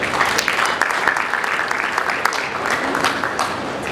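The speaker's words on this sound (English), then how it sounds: "all of us can give another round of applause to the keynote" Sustained applause from the audience at a dinner at Hotel Africana honoring a keynote speaker, dense steady clapping at a moderate level throughout with no break.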